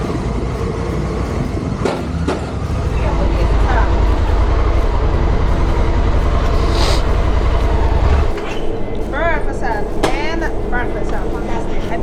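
A car shuttle train carrying cars and motorbikes rumbling and clattering through a tunnel with a deep, steady roar; people talk now and then over the noise.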